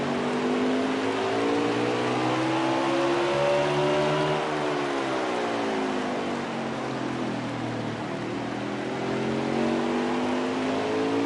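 Race car engine at full power during a race at Martinsville, a loud, sustained roar whose pitch rises and falls smoothly as the car speeds up and backs off through the turns.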